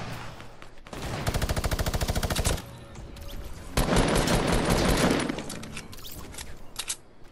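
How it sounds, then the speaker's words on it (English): Video game gunfire from shooters positioned up top, two loud sustained bursts of rapid automatic fire separated by a short pause, followed by scattered single shots. "there's people back here shooting. They're up top."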